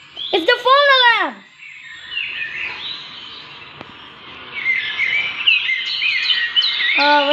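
Small birds chirping and tweeting in quick, repeated calls during a thunderstorm with rain, fairly close and lively throughout, while a voice speaks briefly at the start and again at the end.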